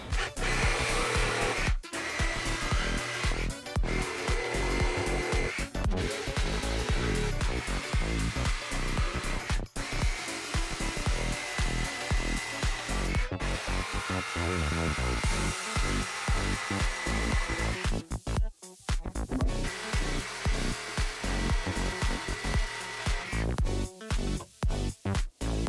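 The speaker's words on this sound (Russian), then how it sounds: "Берем сабельную пилу и выпиливаем все гвозди." A loud reciprocating saw buzzes almost continuously, cutting out nails in pine decking boards, its motor whining and rattling, with a few brief pauses between bursts.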